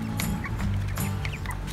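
Cornish broiler meat chickens in a backyard chicken tractor cluck softly, with short low clucks repeating through a steady outdoor background.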